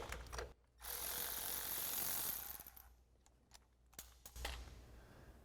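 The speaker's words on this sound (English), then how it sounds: "we're gonna start off with a 12mm socket to pull the bolt out" A 12mm socket ratchet works a bolt loose during a suspension lift install on a 2022-2024 Toyota Tundra, with bursts of quick clicking pawl ratcheting, a loud whirring stretch, and separate metallic ticks close by.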